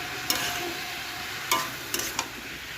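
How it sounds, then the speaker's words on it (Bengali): Cauliflower stalks, shrimp and fried potatoes stirred together in a frying pan, a steady sizzle with a few sharp utensil scrapes and knocks against the pan. "এর সঙ্গে মিশিয়ে নিচ্ছি"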